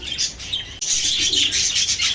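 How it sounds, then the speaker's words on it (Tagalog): Pet parakeets chirp together in a dense, bright chatter with squawks, broken by a short burst of wing flapping, close up. "pasilip ko lang sa inyo itong mga alaga kong parakeets"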